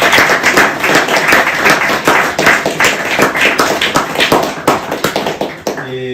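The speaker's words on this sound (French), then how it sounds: "je vous demande de l'applaudir" An audience at a conference on departmentalisation in La Réunion applauds a speaker, uneven clapping and tapping close by, with voices and shuffling mixed in and a brief tonal sound near the end.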